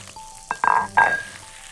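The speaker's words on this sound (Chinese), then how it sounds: "把大葱呢爆香，把蒸好的刚才捣碎的洋芋倒入锅中" Scallions and mashed potatoes hitting hot oil in a wok, a brief burst of frying with a couple of loud sizzling splashes and a faint tone beneath.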